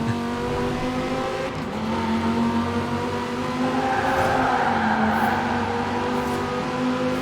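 Quadra sports car from Cyberpunk 2077 driven in the rain in the Forza Horizon 4 racing game, its engine droning steadily loud with harmonic pitch rising and dipping through gear changes, hiss of wet road underneath.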